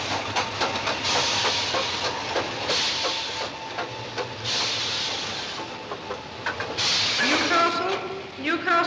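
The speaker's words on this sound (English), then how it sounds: "The train now arriving at number 2 platform is the 7:15 to King's Cross, London" A steam train pulls into Newcastle station in a 1953 film, with bursts of hissing steam and rolling mechanical noise, plus a voice speaking over it toward the end.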